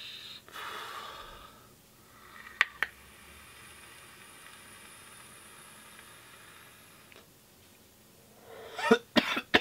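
A person coughs quietly, with two sharp coughs near the middle and a cluster of coughs and snorting breaths at the end, against a faint hiss with no talking.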